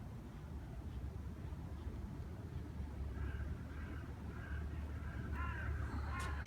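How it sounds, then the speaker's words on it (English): A bird caws several times in a cemetery at dusk, moderately near, over a low rumbling background of wind or distant traffic. "What's up, bird?"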